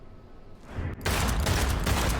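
Gunfire from a weapon in Cyberpunk 2077 erupts loudly after a quieter lead-in, a dense, sustained burst of rapid shots filling the rest of the moment.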